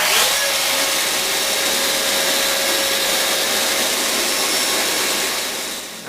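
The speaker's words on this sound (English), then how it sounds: "I've got a little bit of 150 grit sandpaper on my Festool Rotex sander, and I'm just going to go ahead and clean it up" Festool Rotex sander fitted with 150 grit sandpaper running continuously close by, a steady loud whirring motor roar with a gritty high hiss and a faint tonal whine throughout, tapering slightly at the end.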